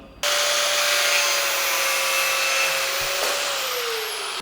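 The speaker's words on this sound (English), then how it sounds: "use an angle grinder, cut it in the middle, job done." Angle grinder cuts through a tape-wrapped braided oil line for a 350Z twin turbo build, a loud, steady high-pitched whirring grind that starts abruptly and holds for about four seconds, close by with no talk.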